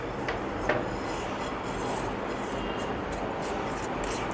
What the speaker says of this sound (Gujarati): પ્લેટમાં બધું મિક્સ કરી લેશું.